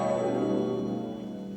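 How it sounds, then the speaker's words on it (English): Orchestral whole-tone scale figures from Debussy's sea music, splashing like foam off waves: a brief, dense shimmer of rising and falling notes over sustained harmony, fairly loud and without speech. "Nothing but whole tone scales."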